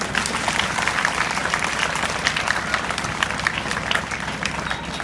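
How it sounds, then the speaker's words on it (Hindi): Schoolchildren at an inter college in Azamgarh clap loudly for their principal and teachers. The applause is dense and continuous throughout, with a steady crowd roar and no pauses. "एक बार आप अपने प्रिंसिपल और टीचर के लिए जोरदार ताली"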